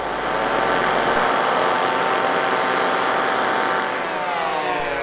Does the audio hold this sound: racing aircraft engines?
yes